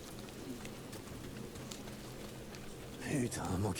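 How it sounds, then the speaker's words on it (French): Rain in the video game Days Gone, a steady patter of drops on surfaces that grows heavier near the end, under a voice. "manquait plus que la pluie"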